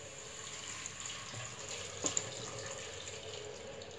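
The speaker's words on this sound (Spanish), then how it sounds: "le agregamos medio litro de agua que ya está previamente" Boiled water is poured into a pot holding half a pumpkin over a flame, a steady soft splashing wash with a brief clink partway through, with no talking.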